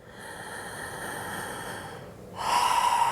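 A deep breath during a yoga forward fold, a long steady breathy draw followed by a brief pause and then a stronger, louder rush of air, close and alone.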